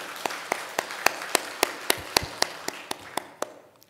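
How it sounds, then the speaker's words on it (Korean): A church congregation during a Wednesday service claps slowly and evenly, about fourteen spaced claps over a few seconds in a reverberant hall, fading at the end. "다시 한번 깊은 감사 또 격려의 박수 부탁드립니다"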